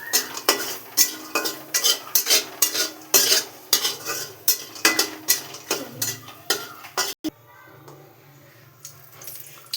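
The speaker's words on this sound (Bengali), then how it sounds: "এখন আমি ডালের বড়িটা ঢেলে দিচ্ছি, সাথে একটু তেল ঢেলে দিচ্ছি।" Lentil dumplings fry in a little oil in a pan while a utensil stirs them, scraping and clinking in a steady rhythm over a soft sizzle, and the stirring stops near the end, leaving quieter frying.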